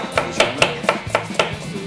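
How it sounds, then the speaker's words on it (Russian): A knife chops an onion into thin strips on a cutting board in six quick, evenly spaced strokes, each a sharp close knock, with no talking. "Лук нарезаем соломой."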